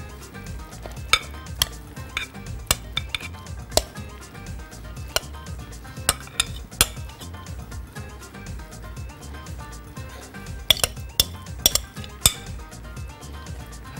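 Salad with olives and roasted tomatoes being spooned and spread onto a serving plate, giving frequent sharp clinks of utensils against dishware over a low, continuous rustle of handling, close and moderately loud with no speech.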